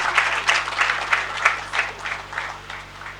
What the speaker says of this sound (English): Can we please applaud him as he comes up?